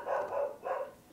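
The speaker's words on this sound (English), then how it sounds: "Sorry for my dog barking in the background." A dog barks in the background indoors, two muffled, mid-distance barks about half a second apart, then quiet.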